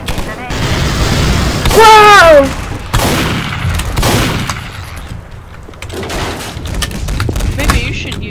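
Shotgun blasts in Garry's Mod, several sharp broadband bursts spread across the span, loud and close, mixed with excited voices and a shout over the gunfire.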